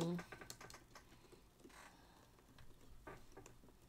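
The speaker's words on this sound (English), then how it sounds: "That's that ethereal typing" A burst of soft, airy keyboard typing from an online game plays as light, uneven clicks under quiet background noise. A voice is faintly present near the start.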